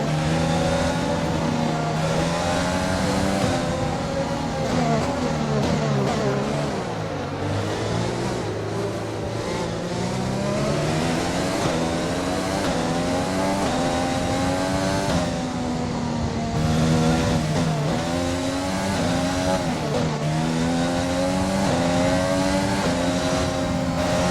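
Formula 1 race car engine in the F1 2020 video game at Monza, a loud, continuous high-revving whine that rises and falls through gear changes, filling the whole stretch without pause.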